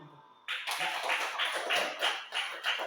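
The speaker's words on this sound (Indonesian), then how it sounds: "Tepuk tangan dulu." A group of people claps hands in a classroom, a burst of rhythmic applause that starts abruptly and continues in pulsing waves, fairly close and alone without talk.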